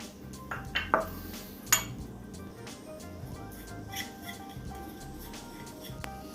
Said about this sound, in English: I'm going to go ahead and add all the seasoning together, and then we're just going to combine those